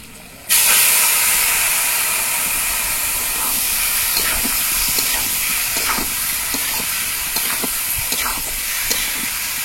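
Meat hits a hot, sautéed spice mixture in a pan outdoors in a mango orchard, bursting into a loud, steady sizzle that holds for several seconds with small crackles throughout.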